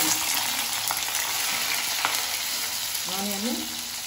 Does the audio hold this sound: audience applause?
no